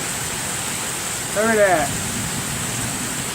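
Heavy rain pours down on a street during a severe thunderstorm, a steady, loud hiss that never lets up, with a voice briefly cutting through in the middle.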